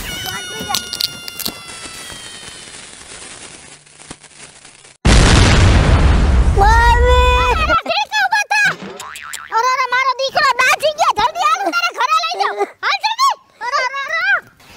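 Diwali firecrackers go off in one loud, roaring burst lasting a couple of seconds, followed by comic springy sound effects and excited voices, including a child's.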